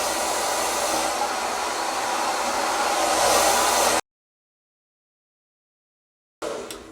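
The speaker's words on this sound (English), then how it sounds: "Also, when I'm doing the blow drying," Hair dryer blowing hot and cold air on hair during a wig install, a steady loud whooshing roar for about four seconds, then silence before it starts again briefly.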